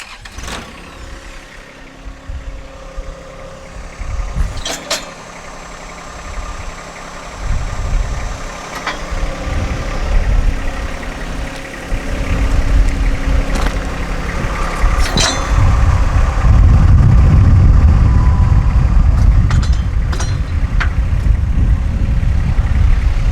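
John Deere 1025R compact tractor idles during a loader and backhoe install, a low steady engine rumble with clanks and metallic knocks early on, growing louder and heavier as the engine revs up in the second half.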